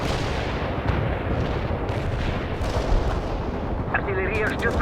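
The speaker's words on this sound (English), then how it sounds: "Commencing the barrage. Heavy fire support here." Artillery barrage in the video game World in Conflict: a dense, continuous rumble of distant heavy guns and blasts rolling on without pause, with brief radio-style voice chatter surfacing near the end.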